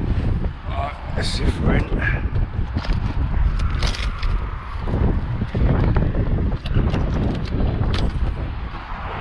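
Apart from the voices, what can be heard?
wind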